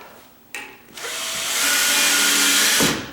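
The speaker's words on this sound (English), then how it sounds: "if I drive this in, I'm just screwing right into the edge of the sheetrock." Power drill drives a screw through an angled pilot hole into the edge of a tall sagging door's frame beside sheetrock, a loud close whir that starts, pauses briefly, then runs steadily for about two seconds before stopping.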